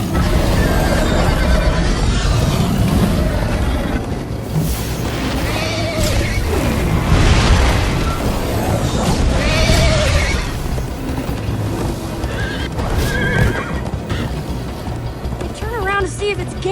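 A horse in the video game Minecraft Story Mode neighs and whinnies over galloping hooves and booming action, loud and close, with game music, effects and voices talking throughout.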